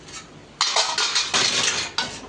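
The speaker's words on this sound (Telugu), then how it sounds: "చూడండి మళ్ళీ ఒకసారి దీన్ని అడుగు నుంచి కలుపుకున్నాం అనుకో, ఎక్కడైనా మసాలా ఉండిపోతే మళ్ళీ కూడా కలుస్తుందని" A spoon scraping and clanking against a pan while fish fry masala is stirred, a run of close metallic scrapes over about two seconds, with no talking.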